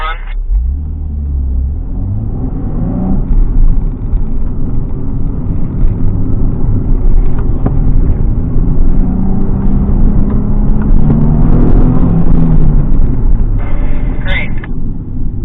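A car works through a slalom exercise, its engine revving up and easing off in repeated sweeps as it turns, loud and close, with one continuous drive lasting throughout.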